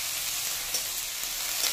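Tender bottle gourd peel fries in a pan, a soft, steady sizzle that stays fairly quiet and even with a few faint pops.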